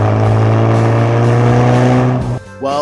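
A car revs hard and accelerates up through the gears, a loud close engine drone that climbs in pitch, then dips briefly at a shift before rising again.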